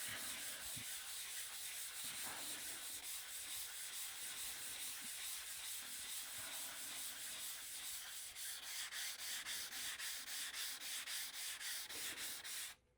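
An Arkansas sharpening stone is rubbed back and forth on sandpaper to flatten it, making a continuous gritty scraping close by that turns into a quicker, rhythmic rasp toward the end before stopping.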